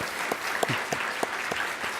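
Steady applause from an audience, a continuous wash of many hands clapping with a few distinct nearby claps punctuating it, alone and unbroken.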